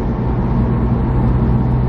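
A facelift Audi S3 8V with a resonator delete, driven in dynamic mode near highway speed, gives a loud, steady engine drone and exhaust boom inside the cabin, constant and without talk.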